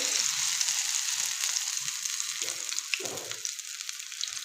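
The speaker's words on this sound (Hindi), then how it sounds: "डाल दिए और अब इसको फ्राई कर लेंगे जी।" Potato and chicken kebab cutlets fry in moderately hot oil, giving a steady close sizzle with faint crackles and a few soft bubbling bursts throughout, no voices.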